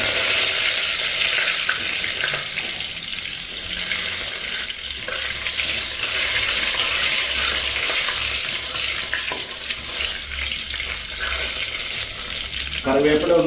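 Fenugreek and curry leaves crackle in hot oil for Kerala-style sadya rasam, a loud, dense, steady sizzle with occasional spattering bursts and a brief clatter near the end.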